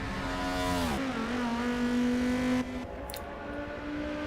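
A Lamborghini race car in a GT racing game at the Catalunya circuit pulls away, its engine note climbing through gears with a sharp shift, then settling into a lower steady drone as it draws off.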